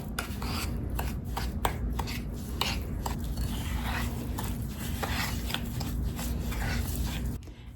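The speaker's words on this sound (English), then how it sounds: "And now I will proceed to fully mix it together." Butter is worked into cinnamon roll dough in a bowl, giving steady close squishing, scraping and rubbing with irregular soft knocks throughout, and no talking.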